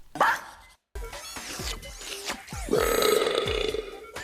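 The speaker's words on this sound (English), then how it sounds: "A robot dog should not be able to burp." A cartoon robot dog's burp rings out amid playful electronic whirs and chirps, with a drawn-out, warbling burp sound toward the end.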